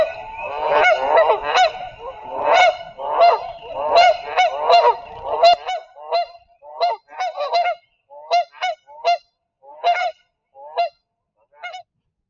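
Repeated honking bird calls, goose-like, nearby and clear, in a steady rhythm of short calls over about twelve seconds, with a low background hum fading out midway.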